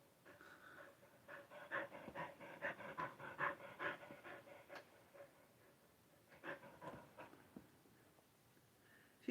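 A teacup Yorkie pants quickly and softly close by in steady rhythmic bursts, pausing briefly before resuming.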